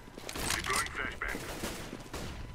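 Gunfire in Counter-Strike: Global Offensive, heard as a dense burst of rapid shots near the start followed by quieter scattered fire and a low background rumble.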